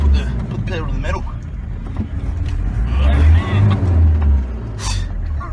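An off-road car with let-down tyres climbs a rocky incline, its engine droning and revving hard in a steady low roar while someone talks over it.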